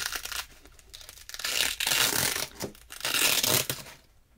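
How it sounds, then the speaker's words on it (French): Adhesive tape torn off in several long, close ripping pulls with short pauses between, a crisp crackling tear that rises and falls in loudness, with no talking. "c'est du scotch qui déchire"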